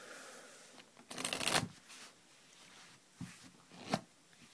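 American-style riffle shuffle of a deck of playing cards: one brisk, close burst of fluttering card riffle lasting about half a second, followed by a few softer taps and card handling sounds, no talk.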